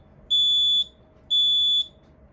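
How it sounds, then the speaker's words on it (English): A gym timer remote control gives two identical high electronic beeps, each about half a second long and a second apart, loud and clear over a faint low hum. "It will beep at"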